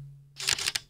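A single loud mechanical shutter release on a camera, with the two curtains firing and rewinding in a short, rattling burst of clicks and whirring after a moment of near silence.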